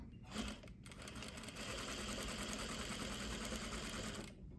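A sewing machine stitches a French dart on a half-scale garment with shortened stitch length, running as a steady close mechanical whir for several seconds after a brief start-stop.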